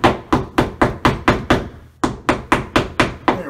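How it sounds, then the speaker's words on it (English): A plastic wall anchor hammered into bathroom drywall near a stud: about a dozen sharp, evenly spaced hammer blows in a quick steady rhythm, close and loud, with one short pause partway through. "Let's get our other anchor inserted in the wall."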